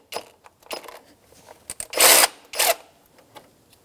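A 12mm socket wrench loosens the AC belt pulley nut on a 2004-2009 Subaru Outback, giving short, close ratcheting and clanking bursts, with two louder grinding spells near the middle and no voices.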